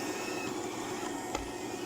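A cheap smart robot vacuum cleaner hums after being switched on, a steady, faint, even whir with one brief soft click partway through.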